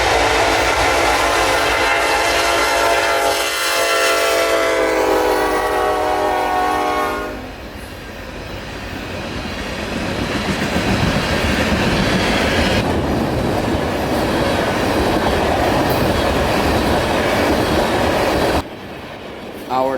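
A Canadian National freight train's horn blares loudly as locomotives roar past close by at a crossing, followed by the rumble and clatter of rail cars rolling through.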